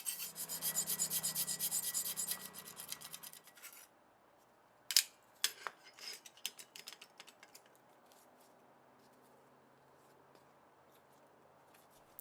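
Knife handle spacers clamped together in vise grips are filed by hand, giving a few seconds of dense rasping, then a quiet stretch broken by scattered clicks and taps.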